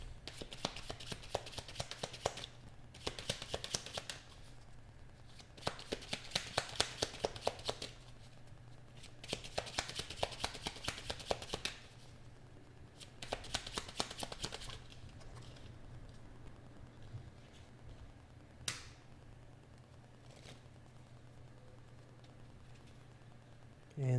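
Tarot cards being shuffled by hand in repeated bursts of rapid riffling and flicking, separated by brief pauses, fairly close with light hand handling and a final tap.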